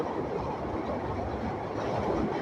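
Steady low rumble of a train crossing the new Jamuna rail bridge in Bangladesh, a continuous dense roar with no distinct clatter, close and fairly loud throughout.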